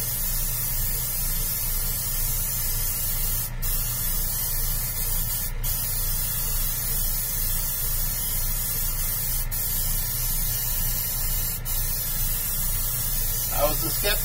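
Aerosol primer hissing steadily from a spray can in a paint workshop, a continuous loud spray held for the full length with only faint breaks.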